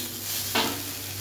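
Okra frying with coconut in a pan, sizzling steadily as a utensil gives a single quick scraping stir, close and clear with no voices.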